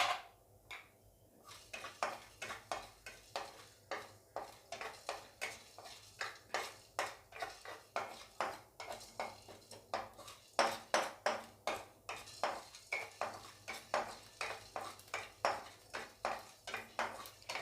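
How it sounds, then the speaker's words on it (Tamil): Pepper, fenugreek seeds and cumin dry-roasted in a pan, heard as a steady run of quick rhythmic metallic scrapes and clinks from stirring, close and fairly quiet. "இப்போ இதில் நம்ம எடுத்து வச்சுருக்க மிளகு, வெந்தயம், சீரகம் எல்லாத்தையும் போட்டு கொஞ்சம் வறுத்துக்கலாம்."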